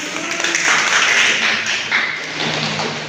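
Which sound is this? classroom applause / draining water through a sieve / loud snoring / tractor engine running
classroom applause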